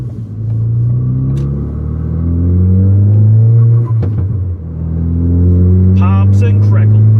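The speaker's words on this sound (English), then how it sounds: "So the only thing you'll be able to hear is the exhaust." Exhaust of a 2017 Ford Focus RS while driving, a deep rumbling drone that rises and falls in pitch through gear changes, loud from inside the car, with a few faint voices and clicks.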